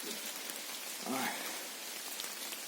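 Rain patters steadily and fairly softly in a forest on a gloomy, wet morning, with a brief murmur of a voice midway.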